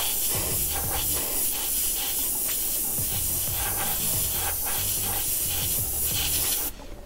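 An airbrush hisses steadily as it sprays paint over a stencil of stars on a helicopter crewman mask decorated with an American flag, with a continuous close, loud spray that cuts off abruptly near the end.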